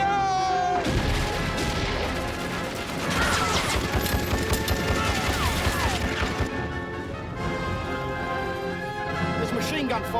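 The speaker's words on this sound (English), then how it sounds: "There's machine gun fire from the Turkish left." Machine gun fire from a desert battle between Turkish troops and Australians, dense rattling bursts and crashes under loud shouting voices and a swelling orchestral score.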